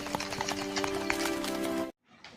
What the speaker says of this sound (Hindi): घोड़े पर बैठते हैं और जंगल में आगे जाने लगते हैं